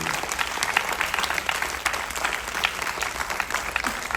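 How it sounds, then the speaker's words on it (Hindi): An audience claps loudly and steadily after a theatre play performance at a national theatre festival, dense continuous applause filling the hall throughout. "जोरदार तालियां होनी चाहिए।"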